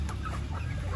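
Chickens cluck softly at feeding time on a farm, a short burst of low, close clucking with faint rustling behind it.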